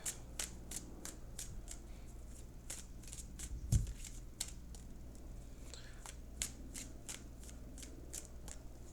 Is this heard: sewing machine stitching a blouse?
no